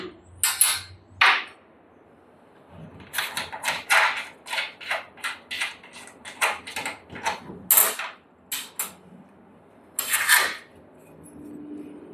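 A screw being undone during installation of a roller door on a self-storage box, with a series of close, quick mechanical clicks and ratcheting bursts, some louder knocks, separated by short pauses.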